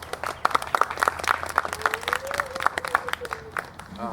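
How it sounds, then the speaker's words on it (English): A modest crowd at a community garden event applauds Girl Scout Troop 1285, with distinct individual claps in an uneven rhythm, fairly close, while a voice briefly talks over the clapping. "give them a round of applause"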